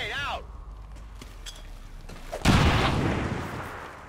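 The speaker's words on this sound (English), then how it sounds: "If I throw a grenade down there, I can." A grenade goes off in the video game XCOM 2: War of the Chosen, a sudden loud broadband blast that then rumbles and fades out over the last seconds, after quieter in-game sounds.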